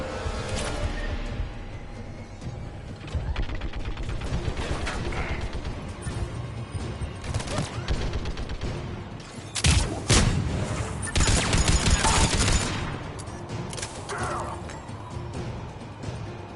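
Mechanical clatter and rapid turret machine-gun fire in the sci-fi shooter Mass Effect 3, sustained bursts with creaking metal and booms, louder near the middle, with battle voices mixed in.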